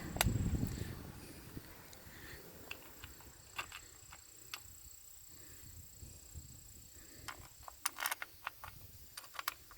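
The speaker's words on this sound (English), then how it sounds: "Putting the 5 screws back in." Screws being fitted back into the clutch cover of an 80cc motorbike give faint scattered clicks, ticks and small metallic taps under a low background rumble.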